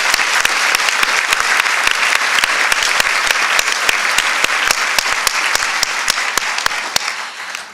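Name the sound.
applause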